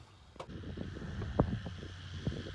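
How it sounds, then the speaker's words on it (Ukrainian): A tractor sows winter rapeseed in a field, its low engine drone faint and distant under wind noise, with a few soft knocks and rattles. "А от і наш трактор працює, сіємо по городах"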